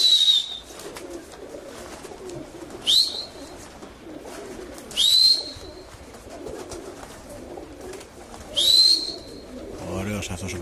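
Racing pigeons at a loft in Larisa, 2011, give four short, rising, high-pitched calls spaced a few seconds apart over a low, busy outdoor background.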